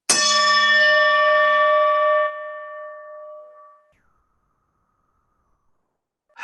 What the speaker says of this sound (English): I'm going to sound the gong again and have them listen for this tone.